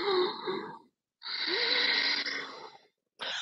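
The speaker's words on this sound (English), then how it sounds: "ujjayi breathing is when you make the sound of the ocean through your throat" Slow, audible ujjayi yoga throat breathing: a long hissing inhale and exhale with a soft ocean-like rasp, close and quiet.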